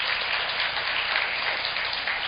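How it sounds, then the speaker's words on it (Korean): Dense, steady audience applause fills a hall at a 2016 Korea–Latin America youth forum, an even wash of many hands clapping together without pause. "다시 한번 큰 박수 부탁드리겠습니다."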